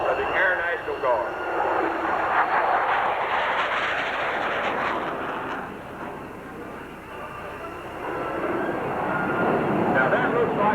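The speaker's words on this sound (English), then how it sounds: "Now from the left, the two F-16, the great example of a first-line fighter aircraft" Two F-16 fighter jets fly past at a 1995 air show in Knoxville, Tennessee, a loud sustained roar that swells, dips briefly and rises again, heard under an announcer's voice.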